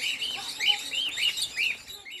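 Small birds chirp and tweet in a bird reserve in Sudan with trees and a water pond, a series of bright repeated calls close by over a quiet background.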